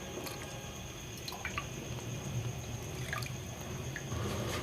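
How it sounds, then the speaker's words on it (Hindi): Two cups of milk pour into simmering masala chai kahwa in a pot, a steady close liquid splash with a few small drips over a constant background hiss. "तो अब हम इसमें डाल देंगे दूध 2 कप"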